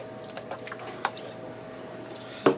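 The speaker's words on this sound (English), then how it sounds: "I'm going to give that a stir." Beef chili being stirred in a pot: a quiet, wet squishing and dripping texture with a couple of soft clinks from the spoon, close up and without talk.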